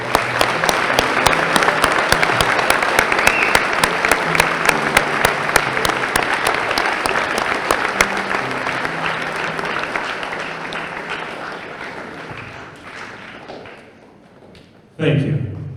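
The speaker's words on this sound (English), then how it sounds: "One round of applause, Marauders." Loud, sustained applause from a school Veterans Day assembly audience, with crisp individual claps that gradually thin and fade, followed by a brief burst of a voice at the end.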